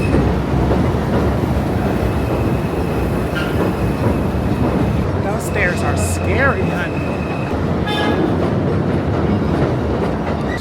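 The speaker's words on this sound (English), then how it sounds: "So I just got off of the train." Subway train running on rails in New York City, a steady loud rumble with wheel noise and brief squeals throughout, while a person talks over it.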